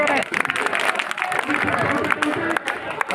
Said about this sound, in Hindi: आदरणीय अशोक सागर जी और जोरदार तालियों से स्वागत करें